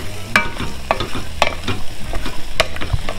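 Seafood gumbo stirred in a pot over medium-high heat, with a spoon scraping and clinking against the pot in repeated strokes, close and fairly loud, over a low bubbling simmer.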